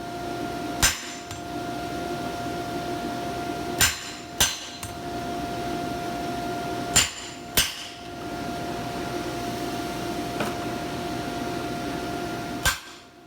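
Sharp, ringing hammer blows strike a hot-cut chisel into freshly forged steel on an anvil while making a bending fork, six distinct strikes spaced irregularly—some in quick pairs—over a steady background hum, with no talking.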